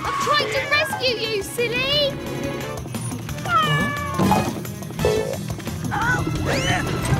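Kitten in a children's cartoon giving several loud, rising meows that stand out over busy music and sound effects, with crashes and voices in between.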